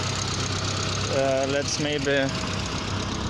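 Car engine with a blown turbo idling, a steady low rumble running underneath someone talking briefly in the middle.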